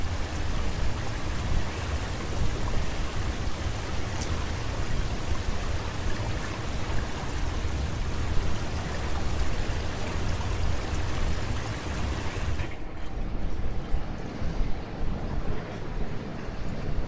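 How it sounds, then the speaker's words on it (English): Water is released and rushes out in the Far Cry 5 video game, a steady broad hiss of flowing water that fills the scene, then the high spray cuts away near the end, leaving a lower rumbling flow. "to release this and let the water out."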